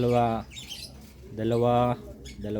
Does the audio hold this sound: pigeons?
yes